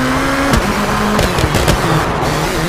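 Citroën DS3 rally car in the WRC 4 racing game driving hard, its engine note rising and dropping with repeated gear shifts and sharp transient bangs from gravel or backfires, loud and continuous with no talk.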